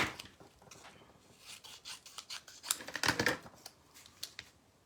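Scissors snipping through card paper while making a winter-themed greeting card, a series of quiet, close crisp cuts and rustles in an irregular rhythm, no talking.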